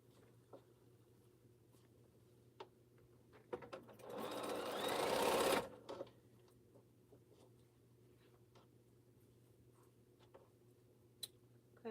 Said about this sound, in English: So we're just gonna sew them together.